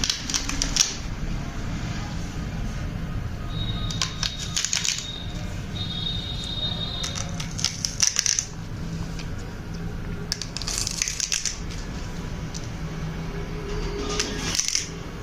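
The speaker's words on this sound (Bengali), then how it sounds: "এবারে পেঁয়াজ কলিগুলোকে একটু লম্বা লম্বা করে কেটে নিন" A knife slices spring onion stalks lengthwise on a board, giving a close run of crisp, irregular chopping taps and scraping cuts in quick clusters with short pauses, with no talk.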